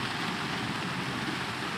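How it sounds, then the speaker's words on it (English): Rain from a squall passing over a sailboat, a steady dense hiss of falling drops, brief and fairly faint with no voices. "We're inside the rain band now, so the wind's eased right off."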